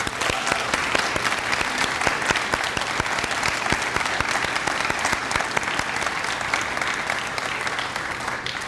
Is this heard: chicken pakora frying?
no